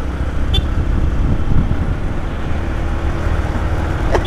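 A motorcycle on an Indonesian road pulls away, its engine running steady and close with broadband road and wind rumble throughout, a few brief clicks riding on top; no speech.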